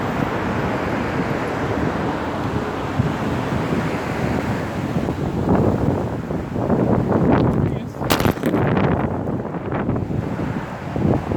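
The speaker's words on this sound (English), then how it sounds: "It's a bit windy today" Strong wind blows outdoors on a mountain, roaring and gusting against the microphone in loud, uneven surges, with a sharper buffet near the end.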